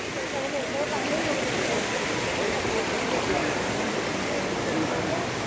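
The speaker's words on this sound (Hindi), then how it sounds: "तो झरने से पानी आ रहा है।" A waterfall near Vashishtha Muni's ashram in Guwahati, Assam pours in a steady, broad rushing roar that stays constant throughout, with faint voices mixed under it.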